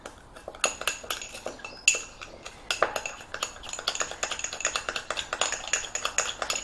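A spoon stirs a thick sugary syrup in a bowl for vegan tray bakes, with quick repeated clinks and scrapes of metal against the dish, close and fairly loud, with no talking.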